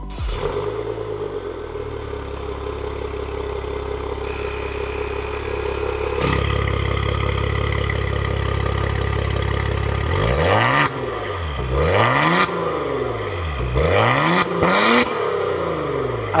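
A Lotus Elise supercar runs its engine with a steady idle drone, then a series of loud rising and falling revs from the exhaust, close by and with no talk.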